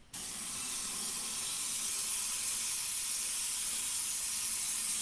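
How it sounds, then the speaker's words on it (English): Steady close hiss of an Iwata airbrush spraying water-based Quicksilver Chrome paint onto an RC car body shell, starting abruptly and continuing evenly, loud and unbroken. "And now I'm going to just spray it on a shell."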